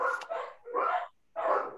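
Dog barking three times, loud and close, each bark a short rough burst separated by brief pauses.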